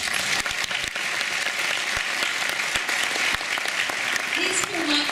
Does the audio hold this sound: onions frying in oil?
no